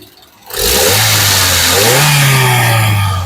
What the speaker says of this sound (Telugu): ఒకసారి ఇంజన్ నాయిస్ అనేది వినిపిస్తున్నాను వినొచ్చు ఒకసారి ఎక్సలేటరీ